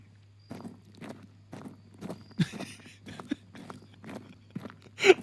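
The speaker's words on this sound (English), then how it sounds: "It's making the footstep noises." Footstep sound effects from a first-person shooter being built in Unity, a series of evenly spaced soft thuds playing back from the game, with brief voice-like bursts between steps.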